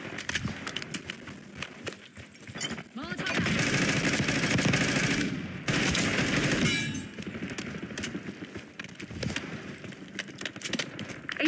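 Bursts of automatic gunfire in Call of Duty: Black Ops 6 multiplayer, rattling machine-gun volleys that swell into a sustained loud stretch, then break into scattered shots, with a radio voice speaking between them.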